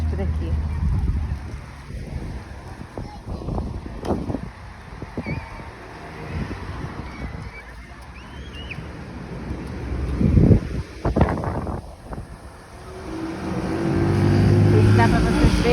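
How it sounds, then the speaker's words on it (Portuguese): Strong wind buffets the microphone in gusty, rumbling bursts on a mountain range as rain approaches, swelling louder toward the end, with faint voices underneath. "Vento muito forte por aqui."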